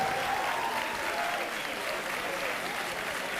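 A wrestling arena crowd applauds in a dense, continuous wash of clapping and cheering, steady and loud throughout with no break.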